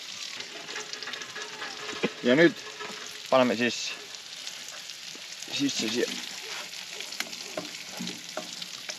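Potatoes sizzle and fry in a pot set over an outdoor campfire in the snow, a steady crackling hiss with a few utensil stirs, while someone talks nearby.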